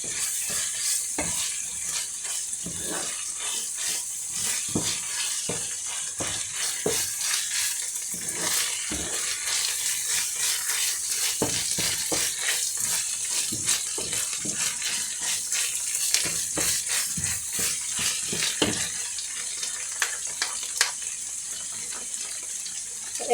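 Minced meat with tomato paste being stirred in a hot pan, a steady frying sizzle with repeated scraping and clacking strokes from the stirring utensil throughout, close and fairly loud.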